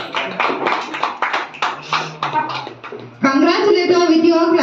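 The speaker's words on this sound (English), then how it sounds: "Congratulate her with your claps" An audience at a school children's sports prize-giving claps for a winner, first in scattered, uneven bursts, then in a sustained round of applause. A voice speaks over the early clapping.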